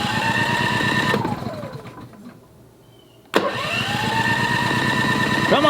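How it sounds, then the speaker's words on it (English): A Wen 4000-watt dual fuel inverter generator running on propane, cranked with the electric starter in choke position; a steady mechanical whir cuts out into near quiet, then abruptly roars back into a loud, even running drone. "So what we'll do is turn it to the choke position and hit start."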